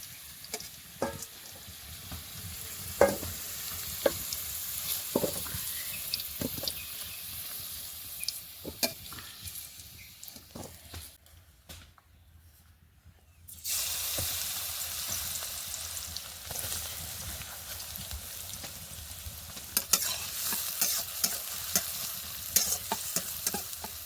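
Onion, garlic and slit green chillies fry in a pan with steady sizzling and repeated stirring scrapes, loud throughout apart from a brief quieter pause near the middle; no talking.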